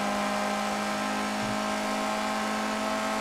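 VW Brasilia car with a turbocharged engine revving and accelerating under load, a steady loud mid-pitched drone with a strong constant tone throughout, no talk.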